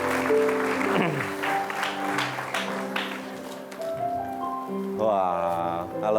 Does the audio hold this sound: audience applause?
yes